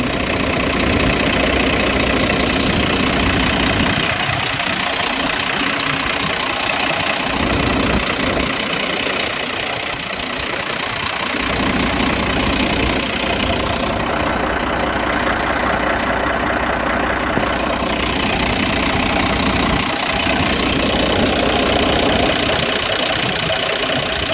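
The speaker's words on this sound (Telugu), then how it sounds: "ఇంజన్ యొక్క నాయిస్ని మనం అబ్జర్వ్ చేస్తున్నాం" A Bharat Benz 14-tyre lorry diesel engine idles continuously, a low rumbling drone with a constant mechanical hum, close and fairly loud throughout with no talking.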